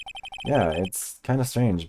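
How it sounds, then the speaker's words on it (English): In the Phoenix Wright video game, a phone ringtone sounds as a quick series of short, evenly spaced electronic beeps at the start, then gives way to a voice speaking. "I heard a phone ring just now, one of those newfangled ring tunes."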